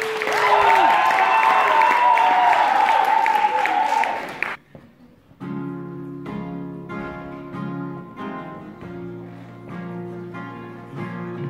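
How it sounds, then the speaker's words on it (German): Audience applause for guitarist Tom at a music casting event, a dense burst of clapping lasting about four seconds, cut off abruptly before a guitar begins playing. "einen großen Applaus für den Tom!"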